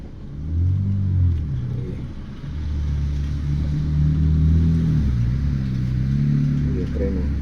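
A Toyota Rush rolls slowly during a driving lesson, its engine rumbling low and steady up close inside the cabin, rising slightly as it moves, while an instructor speaks to the learner.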